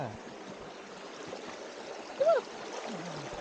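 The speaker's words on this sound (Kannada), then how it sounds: "ಫಾಲ್ಸ ನೀರು ಕೇಳ್ತದ ನೋಡಿ" Steady rushing water pours continuously from Didupe Falls (Kadamagundi Falls) near Dharmasthala, close by, with a brief voice rising over it partway through.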